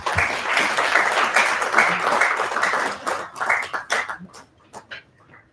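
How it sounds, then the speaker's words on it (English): An audience at an international conference applauds the chief guest, a minister, during a felicitation: dense, loud clapping for several seconds that thins into scattered individual claps and fades out. "Please give a big round of applause."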